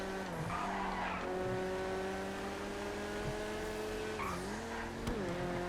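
A GT race car in GTA FiveM racing, engine whining at steady high revs while tires squeal and skid through corners, the pitch dipping briefly then climbing again, loud and close with no talk.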